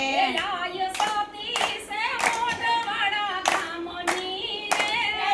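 Rhythmic hand clapping from a group of people accompanies a devotional song, sharp claps falling in a steady beat over tonal singing, moderately close.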